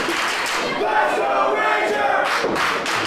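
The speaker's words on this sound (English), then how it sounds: "big time response from the crowd here in Greensboro, Nick." A wrestling crowd in Greensboro roars and cheers steadily during an independent pro wrestling match, a dense, loud wall of shouting voices with a few sharper yells rising near the end.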